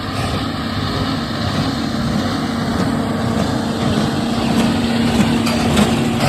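A tractor drives a hay baler while haymaking, with a steady droning engine and mechanical hum running loud and continuous throughout, with no talk.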